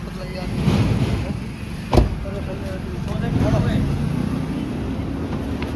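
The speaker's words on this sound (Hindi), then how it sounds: "तो गाइस अब ये लोग जा रहे हैं, गाड़ी में बैठ रहे हैं।" People climbing into a car: engine idle, rustling and a sharp door thump near the middle, with people talking throughout.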